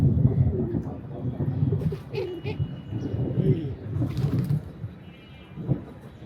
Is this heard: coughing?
no